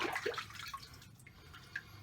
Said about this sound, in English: dunking the entire razor, and by the way, there's soap in that water because I'm rinsing it